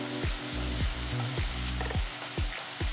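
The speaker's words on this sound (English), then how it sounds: "Saute for another minute." A tomato mixture with coriander and curry leaves sautéing in a pan, a soft steady sizzle broken by repeated scraping stirs at a regular pace, close and fairly quiet with no talking.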